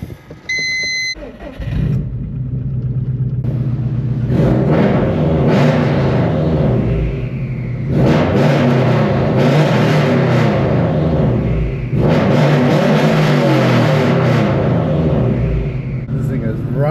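A Subaru WRX STI engine cruising after a car wash, starting with a chime and a low rumble, then revving in repeated surges through gears, loud and close with some talk over it.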